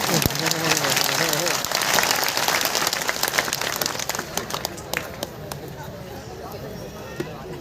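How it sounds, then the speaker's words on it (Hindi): A crowd at the Lolesara fair claps loudly and densely under a murmur of voices, then the applause thins into scattered individual claps that fade toward the end. "अब तालियों की जोर से बजाओ तब होगा"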